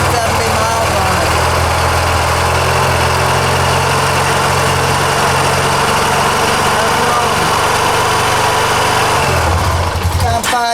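A 2007 Honda Rancher ATV engine idles after a cold start following a year unused, a loud steady close-up rumble with rattling vibration, easing slightly near the end.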